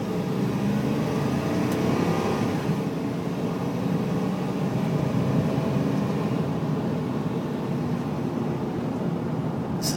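A 2003 Ford F-150 SuperCrew with a 4.6-liter V8 and automatic transmission accelerating on a rough residential road, a steady rumbling engine drone heard from inside the cab with constant road noise throughout.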